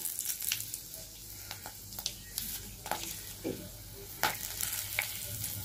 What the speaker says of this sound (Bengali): আবার কি ছিটছে, গরম মশলা দিয়েছে না